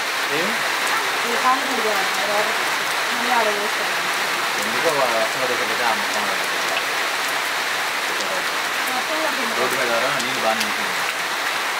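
Steady rain falls throughout at a forest campsite, a dense even hiss, while a person talks over it at times.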